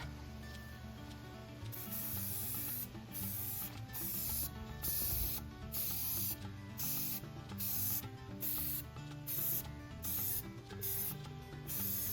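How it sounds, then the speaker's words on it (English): A spray can hisses in steady bursts, each several seconds long with short pauses between, loud and close over a rattling background, spraying a big box outdoors in a yard. "he's going to spray it"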